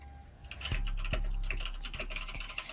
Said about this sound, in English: you can hear me clicking away at my keyboard